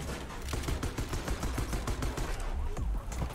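Rapid gunfire in the video game Liberated, a steady stream of sharp shots at a fast even rhythm, loud and close with no pause.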